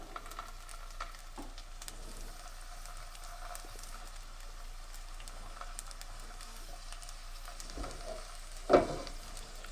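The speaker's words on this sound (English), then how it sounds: "I love the sizzling sound." Gentle, steady sizzling of pot stickers browning in a frying pan, a soft continuous crackle with one brief louder clatter near the end.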